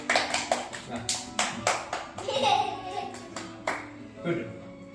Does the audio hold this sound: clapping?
yes